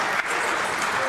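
Applause fills a parliament chamber during a heated question period, a dense, steady clatter of many hands that holds for the whole short stretch with no break.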